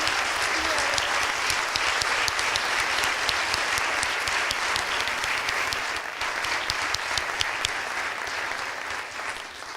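Sustained, loud applause from an auditorium audience at a school district's state-of-the-schools event honoring Clegg Middle School, steady clapping for nearly ten seconds with some cheering and talk underneath.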